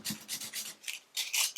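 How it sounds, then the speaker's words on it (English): A dried chip repair on a bathtub is sanded with 400 grit sandpaper in quick, rhythmic back-and-forth strokes, a soft close-up rasping scratch repeated about seven times with short pauses. "I'm just going to sand this down."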